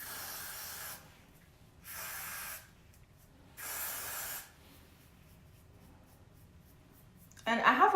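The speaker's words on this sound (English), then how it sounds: "I'm gonna go ahead and use my spray and spray the edges" Spray is misted along the edges of a bald cap in three separate hissing bursts, each lasting about a second, with short quiet gaps between them. A louder rustle follows at the end.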